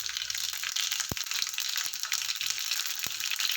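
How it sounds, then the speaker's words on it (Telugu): Mustard seeds, fenugreek, cumin and garlic frying in hot oil for a tempering, giving a steady, close, bright crackling sizzle with a few sharp pops and no voices. "అది వేగిన తర్వాత ఇవి కూడా వేసేస్తున్నాను తాలింపుకి."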